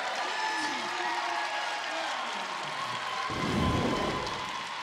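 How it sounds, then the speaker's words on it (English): Spectators at a pro volleyball match applaud in a steady, rain-like patter of clapping under crowd noise, swelling louder toward the end. "you hear the applause from the crowd, much deserved"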